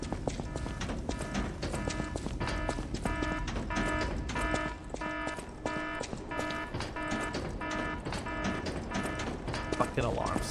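A repeating alarm tone in the video game Lies of P blares in steady pulsing bursts, loud and continuous over rhythmic in-game clatter.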